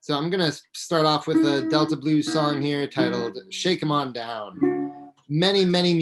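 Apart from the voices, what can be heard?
No distinct noise like a dog, phone or traffic.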